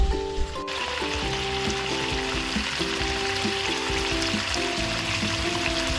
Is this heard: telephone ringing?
no